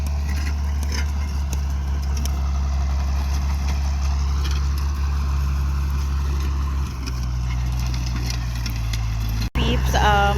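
A tractor engine runs steadily while plowing land for planting, a continuous low idling rumble with a shift in pitch partway through and a voice speaking over it.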